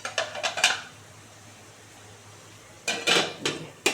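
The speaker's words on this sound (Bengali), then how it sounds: "এই যে আবার ঢাকা দিয়ে দিচ্ছি" Metal pot-and-pan clatter in two short bursts, a lid being set on a cooking pan, rattling and clinking, with a quiet steady hum between.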